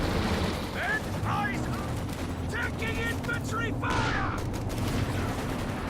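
MG-34 machine gun fire in a World War II video game match, rattling bursts and battle noise steady throughout, close and loud with voices and game sounds mixed in.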